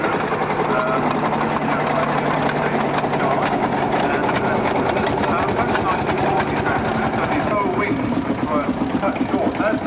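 A wartime Standard tractor rolls past in a vehicle parade at a steam rally, its engine chugging in a rapid, loud, continuous rhythm close by, with someone talking over it.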